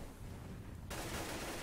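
Gunfire from a competitive shooter video game, with pistol shots in a professional esports match, bursts into a dense, loud crackle partway through after a steady noisy bed.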